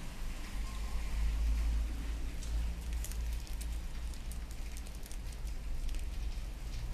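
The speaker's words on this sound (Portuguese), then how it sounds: "Então tá chovendo muito e é sempre uma bênção" Heavy rain falling steadily in São Paulo, a continuous dense wash of drops with faint crackle and rustle, moderately distant and unbroken throughout, with no talking.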